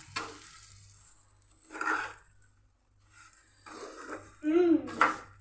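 A spoon stirs kunafa mixture in a pan, giving a few soft scraping and bubbling bursts with quiet gaps between them, close and fairly faint.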